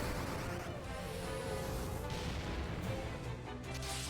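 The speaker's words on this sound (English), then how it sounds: "Look at the big explosion it's getting," A battle explosion in the game Final Fantasy II Pixel Remaster rumbles as a dense, noisy burst over steady game music, sustained and moderately loud across the short stretch.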